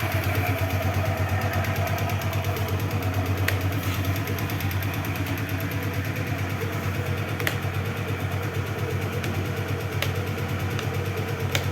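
A 2005 Yamaha Mio scooter engine runs steadily at idle for the whole stretch, a close, even mid-pitched drone with faint clatter and a few light clicks, no voices.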